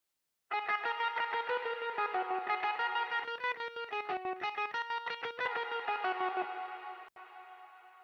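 Electric guitar played through distortion, wobbling modulation, heavy reverb and filtering EQ, holding sustained chords and notes loud and steady for about seven seconds before a reverb tail fades.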